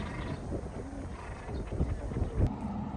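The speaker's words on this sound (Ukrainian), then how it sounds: "Ось такий вітер." Steady outdoor wind rushes and buffets against the microphone with a low rumble, with no clear voices.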